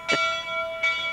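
A resonant bell struck twice about three-quarters of a second apart, each strike ringing with a sustained metallic hum that lingers between hits, moderately loud with no talk.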